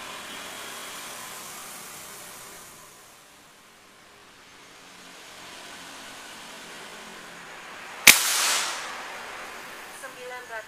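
A single sharp air rifle shot firing a Poligon X-Slug 13 grain pellet from a Buru Taktikal LW cracks out near the end, over a low, steady background hum, followed by a few faint ticks.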